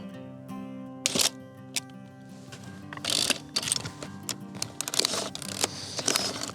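Mechanical shutter clicks and film-advance ratcheting from a film camera loaded with Portrait 400 film, shooting outdoors in Zion National Park; several sharp, close clicks at irregular intervals over a faint background hum.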